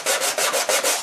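Close, rhythmic sanding of 3D printed speaker horn parts, about five quick back-and-forth rasping strokes in a second, loud and with no talk.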